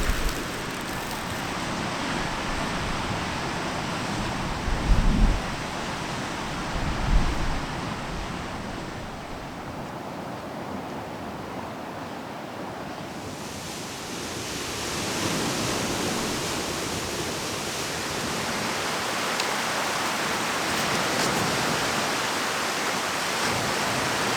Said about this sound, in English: there's this creek flowing into the lake right here